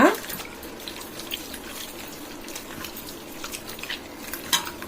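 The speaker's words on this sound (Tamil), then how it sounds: "இதையும் போட்டு நல்லா உரசி ஒரு அலசு அலசிடலாம்" Goat intestine rubbed and rinsed in water with turmeric and rock salt, a faint wet sloshing and light splashing close by, with soft scattered clinks and a sharper splash at the start.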